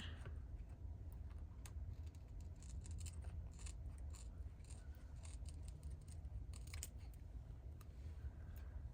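Scissors snip repeatedly at close range while trimming a small shiny junk journal embellishment, giving a steady run of crisp, quiet cuts with no talking.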